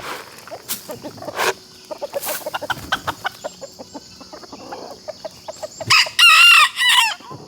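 A rooster crows loudly and close by in a rural woodland homestead setting, a single long cock-a-doodle-doo near the end, preceded by scattered clucks and other fowl calls.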